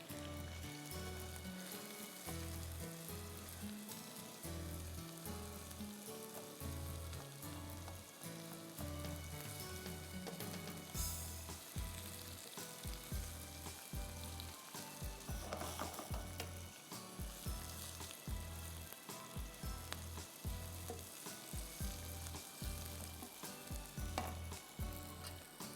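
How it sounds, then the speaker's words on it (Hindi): Sliced onions and tomatoes fry in a pan with a faint, continuous sizzle under rhythmic scraping and stirring. "जब प्याज सॉफ्ट हो जाएगी तो हम इसमें 2 बड़े टमाटर डालेंगे और इसको भी हम स्लाइस करके डालेंगे और 5 मिनट फ्राई करेंगे।"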